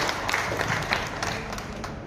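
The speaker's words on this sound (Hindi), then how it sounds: "एक बार जोरदार तालियां माननीय विधायक श्री जीवेश कुमार जी को।" Applause from an audience at the Darbhanga ICON Award 2024 stage event, greeting an MLA: a steady wash of many hands clapping at a moderate level, continuous and fairly even throughout with no voices standing out.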